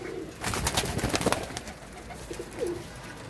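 Pigeons coo softly in short, low bursts against a rustling background, with a few scattered flutters and clicks nearby.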